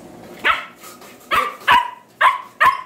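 A dog barks five times in short, irregular bursts, fairly close and clear over a quiet background with no talking.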